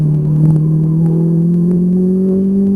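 Ferrari 458 Italia V8 on a track, its engine tone climbing smoothly under full throttle, loud and close from inside the car, one steady rising pull.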